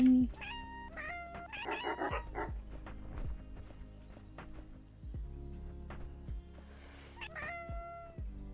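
Cartoonish cat characters in the video game Webfishing meow repeatedly, several short clustered meows near the start and another pair near the end, with soft footsteps and light game noises in between.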